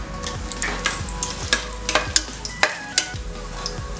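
Whole spices, including cinnamon, cardamom, cloves and bay leaf, sizzle in hot peanut oil and ghee. The close, crackling fry runs throughout and is broken by repeated scraping stirs and sharp pops, with no talk.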